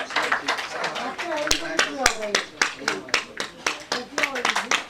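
Audience clapping at a book launch ceremony held in an auditorium, sparse rhythmic claps from a modest crowd, fairly close, with a voice speaking over them.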